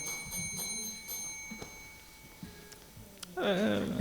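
A bell rings at an Atlanta small business candidate forum. A few quick, bright chimes come at the start, followed by quiet room tone, and then a louder burst of ringing near the end.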